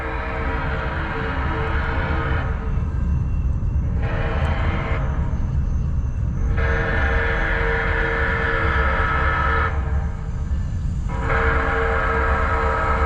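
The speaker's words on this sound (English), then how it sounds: "I do believe we have a train." A Branson Scenic Railway steam train in downtown Branson, Missouri rumbles past close by, a steady loud mechanical roar with rhythmic rattling that holds throughout, briefly dipping and swelling as cars go by.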